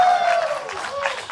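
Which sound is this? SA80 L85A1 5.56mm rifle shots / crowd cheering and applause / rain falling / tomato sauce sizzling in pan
crowd cheering and applause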